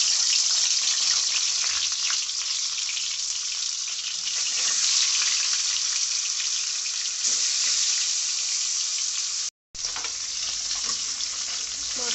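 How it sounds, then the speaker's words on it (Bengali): Fish frying in hot mustard oil makes a dense, constant hiss and crackle, close and loud, with a momentary cut in the sound near the end. "আমি রান্নাটা সরিষার তেল দিয়ে করব মাছটা ভেজে নেব"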